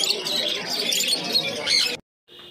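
Budgerigars at a busy Uluberia bird market chirp in a dense, continuous high chatter for about two seconds, then cut out and resume faintly after a brief silence.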